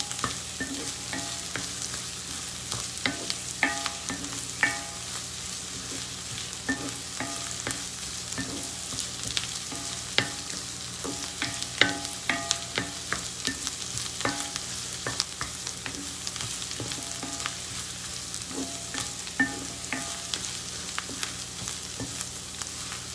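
Onions sizzling and frying in a pan for saag paneer, a steady crackling hiss with occasional stirring scrapes, close and even throughout with no talking.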